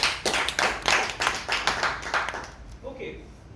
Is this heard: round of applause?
yes